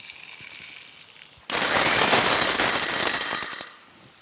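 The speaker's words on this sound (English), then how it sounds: "let us grind our spices" An electric spice grinder coarsely grinds whole spices for a kadai mushroom dish, a loud, steady whirring burst of about two seconds that starts abruptly after a quieter hum and then cuts off.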